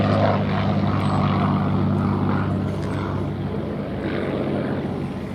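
Hawker Fury interwar RAF biplane fighter flying at the Duxford air show, a steady droning propeller engine roar held at a constant loud level throughout, with a slight easing toward the end.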